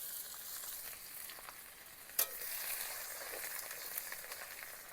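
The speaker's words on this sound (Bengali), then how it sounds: "একই তেলে প্রথমে দিয়ে দেব আদা আর রসুন বাটা" Ginger and garlic paste fries in oil, a faint continuous hiss and sizzle with one sharp clink of a spoon midway and another at the close.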